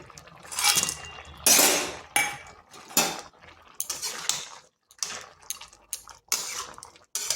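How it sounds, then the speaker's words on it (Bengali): Eggplant, bitter gourd and lentil dumplings being stirred in a pan for shukto, with repeated scraping and clinking of a utensil against the metal in irregular bursts, close and fairly loud, no talking. "ভালোভাবে মিশিয়ে নিচ্ছি"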